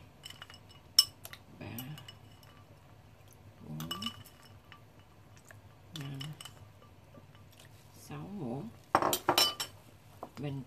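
A spoon clinks against a glass bowl while stirring ice-cold water with ice for Vietnamese pork roll, short bursts of tapping and rattling separated by quiet pauses, with someone speaking between them.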